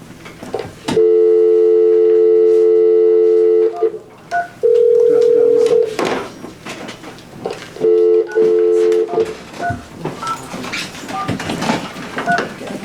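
Telephone call tones while dialing in to a court hearing: loud, steady dual-tone signals in long bursts, with a brief single tone and a later pair of short bursts, then quieter background noise and faint room sounds.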